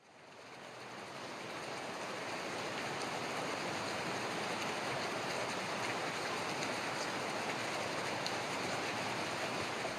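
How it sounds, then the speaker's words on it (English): A steady outdoor drizzle in low-pressure weather, cold with snow on the hills, makes a dense, even hiss of rain that swells in the first second and then holds constant with no talking. "Low pressure, steady drizzle."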